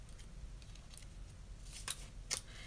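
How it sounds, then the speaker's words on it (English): Scissors snip through paper while opening fan mail, a few quiet crisp cuts with two sharper snips near the end, close to the microphone in a quiet room. "All right, let me use the scissors real quick."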